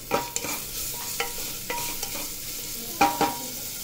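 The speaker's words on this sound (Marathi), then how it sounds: "हे जे भिजवलेले हिरवे मूग आहेत ते ह्याच्यात घालायचे. छान भाजून घ्यायचं तेलात." Soaked green moong fries in oil with a ginger, garlic and green chilli masala paste, sizzling softly under intermittent scrapes and taps of a spoon stirring the pan, close by.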